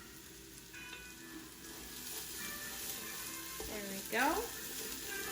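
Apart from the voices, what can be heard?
onions with ginger and garlic sizzling in a pot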